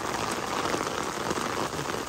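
Steady rain pouring onto a rooftop in Multan during hot weather, a dense, even hiss of drops that fills the whole moment without letup, close and alone with no voices.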